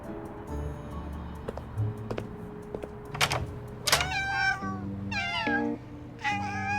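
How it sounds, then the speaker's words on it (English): Several cats meow in succession in a video game, some drawn-out and wavering, over a steady mechanical hum with occasional clicks and ticks. "the constant meowing creeped me out"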